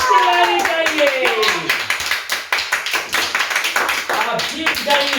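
Quiz show audience clapping in quick, bright bursts over a loud background, with a speaking voice running through it and sharp repeated taps toward the end.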